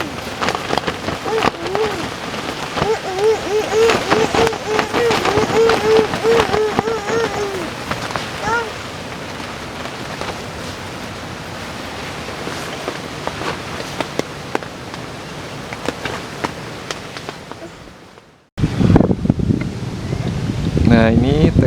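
Storm rain and strong wind beat against a tent at a highland campsite in Ciwidey, a steady loud roar of rain on fabric with gusts, voices talking over it, then a brief drop to near silence before the downpour returns.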